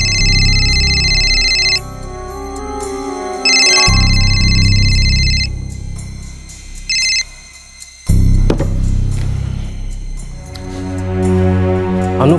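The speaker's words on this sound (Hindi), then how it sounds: "अनु फोन बार बार कट कर रही है अप्पा" A phone ringtone repeats in bursts over a steady low musical drone, cutting in and out several times, loud and close.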